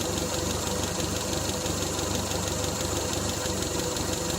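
A Triumph Spitfire engine idles steadily after sitting for 12 years, a loud continuous close-up rumble with a faint regular knocking pulse and no talk.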